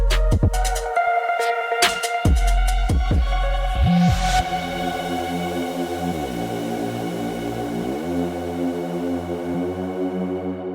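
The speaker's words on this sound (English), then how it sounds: "this gives like a big kind of reverb throw" Music with drums and bass that suddenly drops into a wide, sustained reverb wash, the tail ringing on and smearing the following chords.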